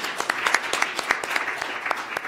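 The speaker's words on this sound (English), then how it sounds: "A big hand of applause to them." Audience applause for symposium panelists, a steady wash of many hands clapping at close range, filling the whole moment with no talking over it.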